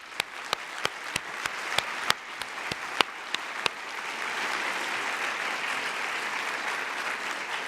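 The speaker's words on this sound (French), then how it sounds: "Je pense qu'on peut applaudir ces bénévoles." Audience applauding volunteers at a conference welcome speech, a few sharp individual claps at first that swell into sustained, moderately distant applause from the room.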